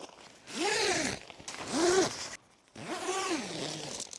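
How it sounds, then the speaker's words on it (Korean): A zipper runs in three long pulls with short pauses between, close and fairly loud, as a Polaris Luna dome tent's vestibule is joined to the shelter. "이렇게 지퍼를 연결을 해 주시고요."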